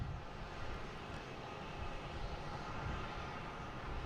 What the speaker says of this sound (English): This is a 767-300, flight 631.